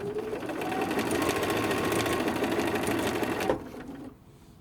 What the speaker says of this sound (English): So this is a utility stitch on your sewing machine, a gathering stitch